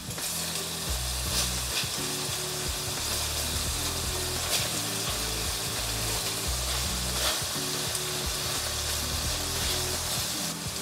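Tapsilog beef sizzles loudly in a pan over high heat after the Coke has cooked down, with a constant dense frying hiss and periodic scraping of stirring and flipping.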